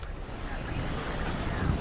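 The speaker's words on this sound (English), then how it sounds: "We see that rain is still coming down." Wind-driven rain and surf from tropical storm Idalia at Carolina Beach, North Carolina, form a loud, constant roar of gusting wind and breaking waves with no pauses.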